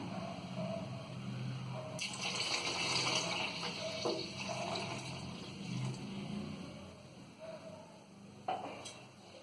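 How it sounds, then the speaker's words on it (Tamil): Water poured into a pan of okra tamarind curry being cooked, a soft splashing pour that swells and then tapers off, fairly faint and close, with a few small clinks. "நீ குழம்புக்கு தேவையான அளவு தண்ணி சேர்த்துக்கலாம்."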